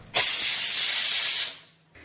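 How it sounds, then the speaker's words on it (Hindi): Hot tempering poured into cooked dal, a sudden loud sizzling hiss that bursts up, holds strong for over a second, then fades quickly. "दाल में तड़का लगाती हूँ"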